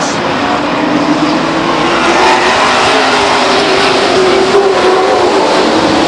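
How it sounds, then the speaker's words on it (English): Grand American Modified race cars roar loudly together on the restart at Stockton 99 Speedway, a dense, sustained engine blare from the pack with no break. "I'm going to watch the restart of this Grand America Modified race"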